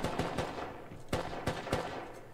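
Video-game gunfire from an attack-helicopter match, a few sharp shots ringing out at moderate distance in irregular bursts over a low ambient rumble.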